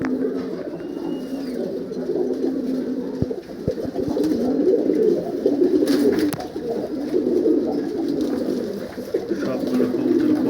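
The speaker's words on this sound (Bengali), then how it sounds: "এই যেখানে এক জোড়া সাদা কবুতর জোড়া দিচ্ছি" Pairs of white breeding pigeons coo steadily at close range, a continuous low, throaty burbling that swells and overlaps throughout, with a brief voice in the background.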